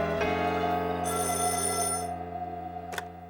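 A cartoon telephone rings with a bright, steady electric bell tone, loud and close, continuing for about two seconds before fading, followed by a short sharp click.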